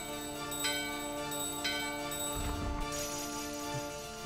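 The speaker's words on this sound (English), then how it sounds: "We ring the bell in front of this bell-shaped gate." A bell is rung at a bell-shaped gate in the video game Final Fantasy IX, giving a few clear chiming strikes with ringing decay, followed by a low rumbling burst, heard alone without talk.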